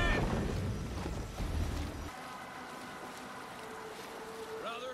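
A Viking longship rowed across open water in Assassin's Creed Valhalla, with steady wash and creaking over wind, and a low horn-like drone joining in the second half.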